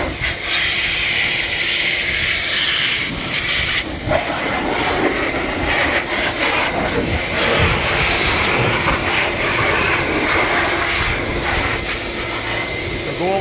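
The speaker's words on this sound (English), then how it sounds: "a motorcycle dryer like this" A high-airflow motorcycle dryer with a concentrated tip blasts water off a freshly washed motorcycle, producing a loud, continuous jet-like roar and hiss that stays steady and close throughout.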